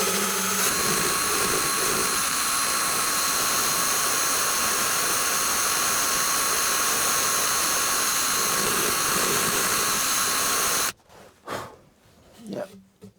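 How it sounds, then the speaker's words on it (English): Power sander running on the clamped radiused plywood parts of a small SCRAPS rowing tender, a loud continuous whine that holds steady for about eleven seconds, then cuts off to quiet handling noises. "what I want to do is just go in with the sander, so they're just paired up really nice around these radiuses here"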